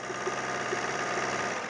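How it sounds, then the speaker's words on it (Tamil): A diesel car engine at a used car dealer's lot runs steadily at a rough, even idle, close and fairly loud, with no rise in pitch and no voices. "இன்ஜின் ஸ்டார்ட் பண்ணி காட்டுறேன் பாத்துங்க."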